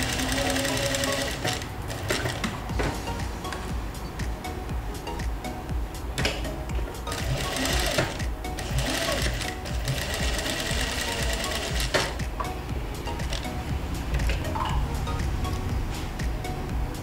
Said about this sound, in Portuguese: Vou passar uma costura.